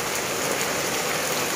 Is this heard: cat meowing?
no